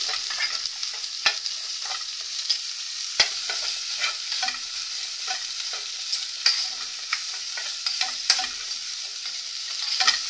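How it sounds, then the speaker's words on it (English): Onions browning in a pan with Fry Light oil, a continuous close sizzle broken by frequent stirring clicks and scrapes, with no voices. "you brown your onions, and I use some Fry Light as for my oil"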